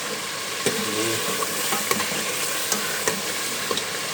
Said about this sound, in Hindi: ये देखो मसाला हमारा भून चुका अच्छे तरीके से।